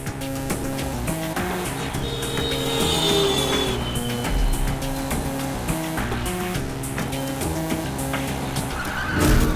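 A car drives hard with tires squealing and skidding throughout, engine roaring under screeching rubber, loud and close, alongside dramatic music in an action thriller scene.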